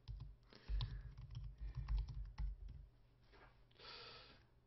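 Close, quiet typing on a computer keyboard in a run of soft clicks during an IRC chat, then a brief lighter burst of taps near the end, no voices.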